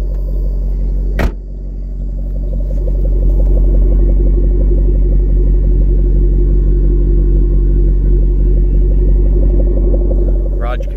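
A stock, garage-kept 2011 Shelby GT500 with the SVT performance package idles with a steady, deep, loud rumble that holds throughout. A sharp click sounds near the start, and a quiet voice talks over the engine.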